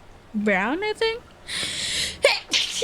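A loud, sharp sneeze bursts out close to the microphone after a brief spoken phrase, followed by a second, quicker sneeze-like burst. Someone talks around it.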